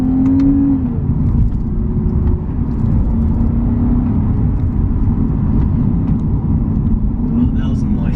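Steady, loud engine drone from a Lexus IS350 F-Sport held in manual mode on a mountain climb, a sustained hum without gear changes, with road noise and interior rumble throughout.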